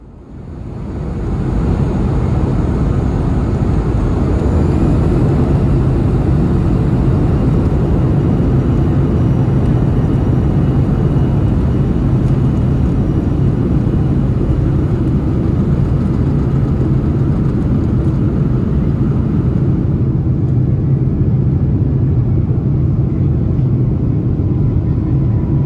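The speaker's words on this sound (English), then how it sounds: "Here's the departure from Yellowknife off of runway 34." An Air North airliner roars down Yellowknife's runway 34 on takeoff, a loud, steady jet engine rumble heard from the cabin that builds over the first seconds and holds throughout.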